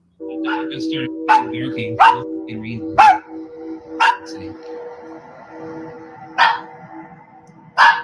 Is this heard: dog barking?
yes